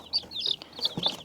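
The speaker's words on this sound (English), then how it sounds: "I brought all the chicks out." Layer chicks chirp in high, thin peeps, several overlapping calls repeating quickly and close by in a brooder box, with a faint low rustle beneath.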